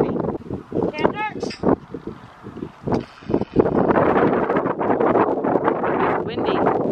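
Gusty wind buffets the microphone in loud rumbling bursts, with people talking intermittently over it outdoors.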